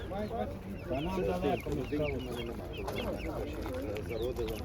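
Young hens for sale at a Ukrainian market cluck and squawk nearby, a busy chorus of hen calls mixed with people talking in the background.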